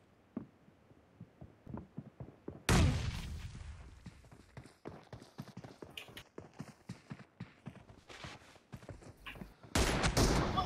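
Gunfire in PUBG Mobile fires as rapid clusters of sharp, punchy shots, some near and loud, others softer and farther away, between bursts of heavier blasting, with no talk.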